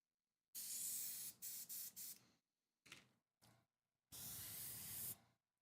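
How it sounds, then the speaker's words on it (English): An airbrush sprays paint onto a miniature figure in several bursts of close hissing: a long burst broken into short spritzes, a couple of brief puffs, then a final sustained spray. "Airbrush, go."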